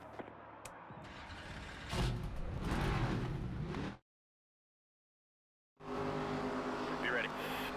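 Race car engines firing up together at the start of an ARCA Series race at Iowa in NASCAR 25, loud revving and rumble that swells midway, cuts to near silence, then returns at full roar.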